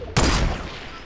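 A sharp burst of gunfire in the video game Fortnite cracks out loudly, then trails off into a decaying echo.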